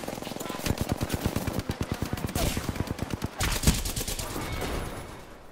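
Rapid automatic gunfire in the battle royale game Apex Legends, a fast string of sharp shots over about two seconds, then a brief pause and another heavier burst, loud and close with faint game voice underneath.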